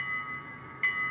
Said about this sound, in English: F1 is the bell.